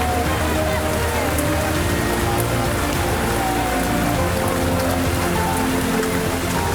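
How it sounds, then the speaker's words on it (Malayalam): Heavy rain pours down at night on a large crowd gathered for a funeral procession, a dense, unbroken hiss with faint voices and distant crowd noise beneath. "വീണ്ടും മഴ പെയ്തു."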